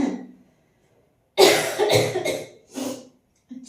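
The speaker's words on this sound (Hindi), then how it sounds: "सर्दियों में खांसी बड़ी लगती है भाई" A person coughs in a winter setting: a brief throaty sound, then a pause and a burst of two or three harsh coughs, another short cough and a faint trailing one, near and fairly loud with no talk.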